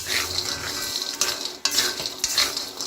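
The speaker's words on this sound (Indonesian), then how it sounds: "Tuang adonan dengan sendok sayur dari atas wajan" Peanut cracker batter ladled into hot oil in a wok, a busy, continuous sizzle with a few sharp clicks of utensils against the pan, close and fairly loud.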